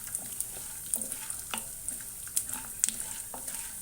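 Peanuts and chana dal frying in oil in a pan, a steady light sizzle with occasional sharp crackles and stirring scrapes close by, no talking.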